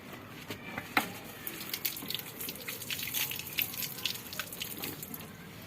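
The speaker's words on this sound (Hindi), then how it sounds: "आपको ये पानी देना है और धीरे धीरे करके देना है।" Water is poured slowly onto the soil of a potted bougainvillea, giving a faint, steady trickle with scattered splashes and drips, with no one talking.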